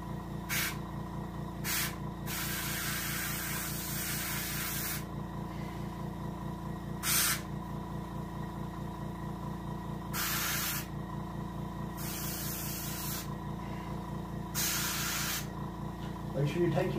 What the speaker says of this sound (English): so I'll go ahead and get an airbrush on it